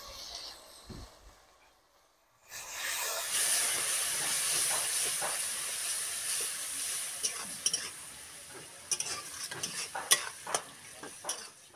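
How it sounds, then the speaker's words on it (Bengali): Ginger and garlic paste with spices sautéing with a splash of water in a pan for a masala cauliflower dish: near-silence, then a loud steamy hiss bursts in and keeps sizzling, dotted with sharp pops and crackles. "সামান্য জল দিয়ে আমি মশলাগুলোকে ভালো করে কষিয়ে নেব"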